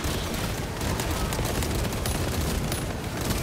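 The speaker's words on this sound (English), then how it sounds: "Let's keep firing." Gunfire crackles in Warhammer 40000: Space Marine 2 as a dense, continuous fusillade of rapid shots amid a loud battle din with no pauses.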